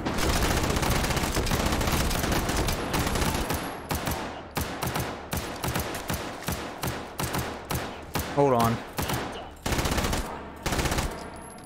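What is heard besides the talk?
gunfire in video game H3VR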